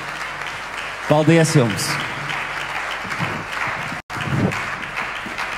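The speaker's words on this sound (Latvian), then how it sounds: "mūsu zālē aplausi paliek arvien skaļāki" Audience applause filling a hall at a Christmas performance in Rundāle Palace, a steady wash of clapping throughout, with a voice speaking over it.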